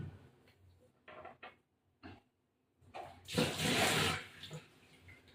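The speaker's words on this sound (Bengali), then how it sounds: "একটু ঝোল দিয়ে দিলাম, বেশি ঝোল লাগবে না।" Broth poured into mutton biryani cooking in a pot: a short burst of liquid splashing and sizzling lasting about a second, preceded by a few soft clinks and quiet kitchen noises.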